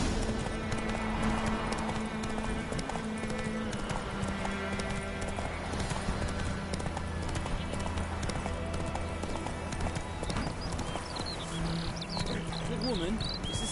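A horse gallops along a road in The Witcher 3 game, with fast, even rhythmic hoofbeats under continuous ambient game music, a single whinny, and game dialogue voices.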